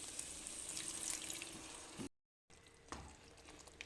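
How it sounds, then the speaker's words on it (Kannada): Water poured into a pan of sizzling egg bhurji masala, a steady hissing wash of liquid and frying for about two seconds, a brief silence, then quieter simmering with a faint clink. "ಈಗ ಸ್ವಲ್ಪ ನೀರು ಹಾಕ್ತೀನಿ."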